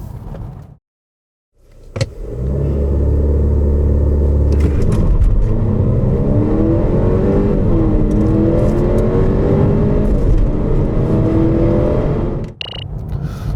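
A 2021 Volvo S60 B5 car pulls away hard in an acceleration test. After a short pause, a close, loud engine roar climbs steadily through several rising gear pulls, then cuts off sharply near the end.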